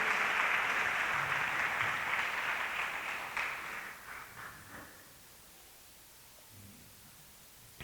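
Church congregation clapping during a sermon, a dense burst of applause that thins out and fades over about five seconds, leaving near silence.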